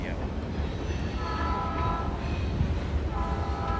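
A Norfolk Southern H95 freight train led by an SD40-2 locomotive rolls past. The rumble is loud and continuous, with a few tonal horn-like notes, and a voice may be faintly present.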